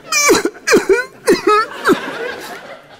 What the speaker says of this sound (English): take a warm handkerchief and cough into it as if you're ill.